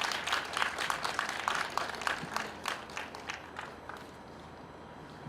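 An outdoor crowd at a candlelight vigil for the October 29 Itaewon disaster, held in front of the memorial altar at Seoul City Hall, applauding. The clapping is dense and steady at first, then gradually thins and fades over several seconds.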